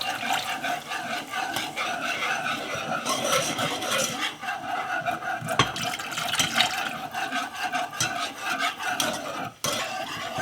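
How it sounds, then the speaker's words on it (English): Broth being poured into a pan of cooked flour for turkey gravy, a steady liquid splash and sizzle running throughout at close range, with faint clinks of a utensil. "All right, so now let's add in our broth."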